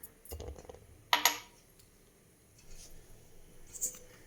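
A spoon mixes cocoa powder into a cinnamon powder mix in a bowl, making a few quiet scrapes and a brief cluster of sharp clicks in an otherwise hushed setting.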